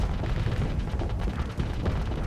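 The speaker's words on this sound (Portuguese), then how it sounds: "Vou lançar uns mísseis aqui no cara." Missiles and gunfire in the space combat game Starsector make a dense, continuous roar of overlapping blasts and rumbling impacts. The barrage stays loud and steady throughout, with no voices.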